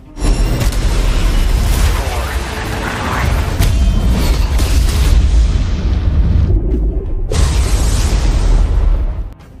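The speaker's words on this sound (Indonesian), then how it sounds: "Beruntungnya Kenny masih selamat dari ledakan tersebut" An explosion destroys a military base in the action film Sniper, producing a loud, sustained booming rumble with heavy low-end roar and scattered crashing bursts, briefly dropping before a final surge.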